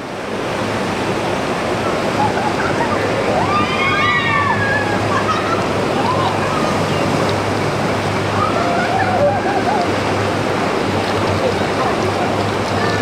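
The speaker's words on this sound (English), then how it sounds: "Let's see them splash out over here." Rushing water churns steadily with splashes as people splash out of a water slide at a water park, loud and continuous, as distant voices call out faintly in the background.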